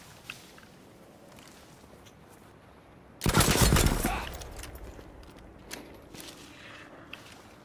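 Burst of gunfire in a Battlefield V Firestorm battle royale match, a loud dense volley lasting about a second amid quieter in-game ambience and scattered smaller impacts.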